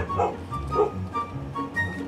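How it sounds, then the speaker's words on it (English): A dog gives a few short, soft barks and yips at close range, spaced unevenly over a couple of seconds. "Which way are you barking?"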